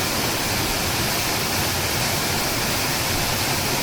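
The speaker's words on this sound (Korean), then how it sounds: "이번에는 계곡을 흐르는 물이 조금 많아져서 육담폭포가 더 폭포다워 보였습니다" Yukdam Falls on a mountain valley stream, swollen with more water than usual, roars in a dense, constant wash of rushing water, loud and unbroken throughout with no voices.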